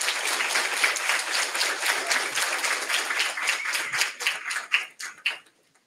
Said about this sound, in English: please give me a very big, very loving round of applause for Sophie Armina-Kean.